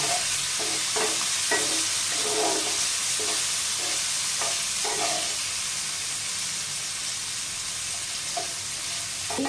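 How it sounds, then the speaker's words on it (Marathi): Green peas sauté in a pan for a spicy pea thecha chutney: a steady loud sizzle runs throughout, broken by repeated rhythmic scrapes of a spoon stirring them around. "बघा वाटाणे पण छान असे परतले गेलेले आहेत"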